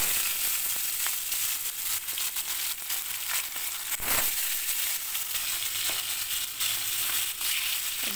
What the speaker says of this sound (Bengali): এবার আমি মাছগুলো একে একে কড়াইয়ে দিয়ে দেবো।